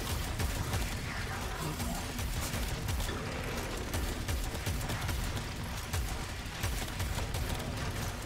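Dense, continuous bursts of gunfire from the video game Warframe crackle and pop over a busy, noisy background, with rapid shots overlapping throughout.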